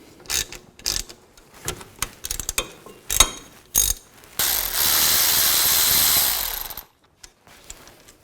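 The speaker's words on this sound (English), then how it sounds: "I'm going to use a 12mm socket, loosen those up." A ratchet with a 12mm socket loosens the caliper bolts on a 2000-2006 Chevy Tahoe: several bursts of quick clicking, then a sustained loud whirring stretch, and a few final clicks, with no talking.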